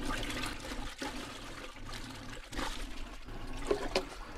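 Detergent poured into water inside a compact top-load RV washing machine, a continuous sloshing trickle with swirling surges and small splashes, close by.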